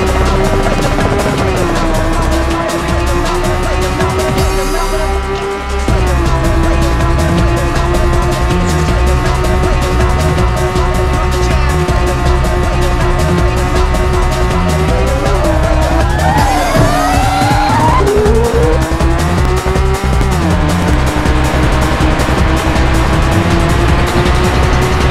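Race car engines and tire squeal from the arcade racer Rage Racer, Class 4 Mistral GP. A loud, continuous engine drone rises and falls with gear shifts, and brief squeals sound through the middle.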